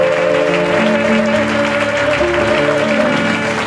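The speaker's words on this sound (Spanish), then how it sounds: "¡Aplauda!" A congregation at a prophetic ministry service claps loudly and continuously, with sustained tones of music or organ beneath the applause throughout.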